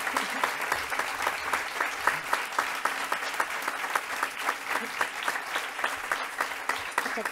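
Steady applause from an audience at a 40th anniversary event for the Hospital Clínic emergency building, a dense, even patter of many hands clapping continuously, fairly close, with no voices over it.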